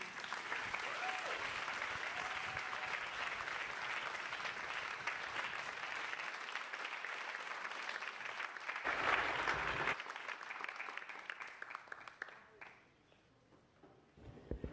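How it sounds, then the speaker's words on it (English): An audience at a literary and theatre event applauding after a performance, sustained clapping that holds steady before thinning out and fading toward the end, with faint voices mixed in. "Let's give her another round of applause."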